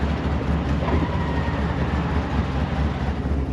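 Pontiac GTO fitted with Holley Dominator fuel injection and an Isky turbo-spec thump cam, idling: a loud, continuous, close-up low rumble with no voices.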